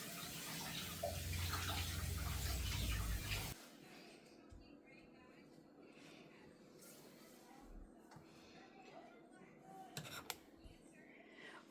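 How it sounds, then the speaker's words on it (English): Hot tap water runs in a loud steady stream into a glass jar for about three seconds, then stops, leaving faint clinks and handling sounds of the jar at a kitchen sink. "I'm going to take and run some hot water in my jar so that the hot syrup doesn't shock the jar and crack it."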